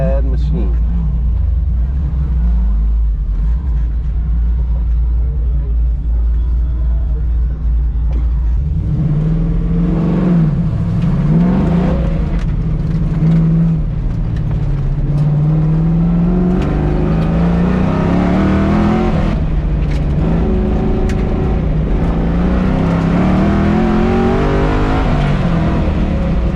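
A 1968 Camaro runs an NMCA autocross course, its engine roaring loud and steady, rising and falling in pitch as it accelerates and brakes through the turns, with a voice speaking over part of the run.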